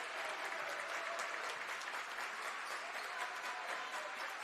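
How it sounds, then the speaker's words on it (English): Fans cheer steadily throughout a high school boys basketball game between New Berlin and Payson Seymour, a dense, loud gym crowd roar with clapping mixed in and no clear break. "as the New Berlin fans cheer on their defensive efforts"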